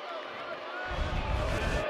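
A basketball arena crowd rumbles and jeers after an offensive foul call, a broad sustained roar that swells louder partway through, with a commentator's voice over it.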